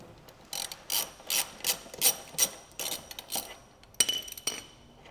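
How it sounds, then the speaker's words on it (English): A ratchet with a 24mm socket turns the rear axle nut on a Ryvid Anthem motorcycle, with a series of about a dozen quick, close metallic clicking strokes in an uneven rhythm. "loosen the rear axle nut."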